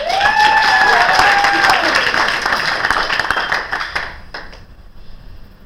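Audience applause at a live improv comedy show, loud dense clapping with a few whoops filling the room, thinning out toward the end.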